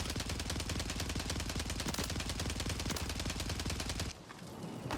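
Sustained rapid automatic gunfire in the Warzone video game, a fast, even stream of shots rattling for about four seconds before cutting off abruptly, leaving quieter ambient game noise.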